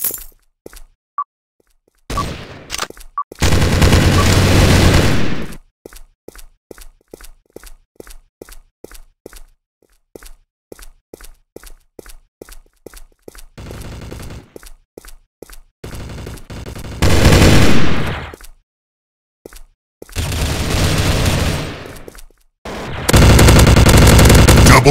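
Gunfire in the online FPS game Combat Strike PRO, long loud stretches of rapid automatic fire alternating with evenly spaced single shots, close and punchy, with short silent gaps between volleys.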